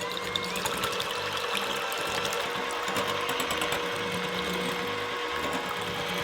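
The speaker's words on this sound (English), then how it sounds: "Now we'll use the hand mixer to make our meringue." A handheld electric mixer whips egg whites into meringue for Halloween jack-o'-lantern cookies, a steady, dense whirring drone with a rattling beater texture that runs continuously at close range.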